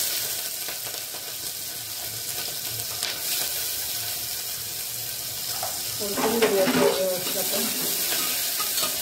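Onion frying in a pan for val khichdi, a steady low sizzle that grows busier and louder near the end as stirring crackles and scrapes pick up, with a brief spoken word in the middle.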